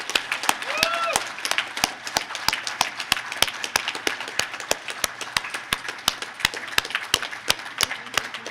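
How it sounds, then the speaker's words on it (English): Sparse, sharp clapping from a conference audience at a security conference in Las Vegas, evenly spaced claps over a faint room hum, with a brief voice near the start. "Let's give them a huge round of applause."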